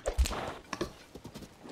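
Horse hooves clip-clopping at a walk in Zelda: Tears of the Kingdom, a quick run of close, uneven thuds over a short stretch of riding.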